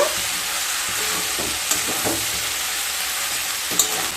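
Spring onion greens, about 200 grams, being stirred in a hot frying pan for a fish tel chorchori, with a steady frying sizzle and a few scraping spatula strokes, two sharper clinks standing out, no talking.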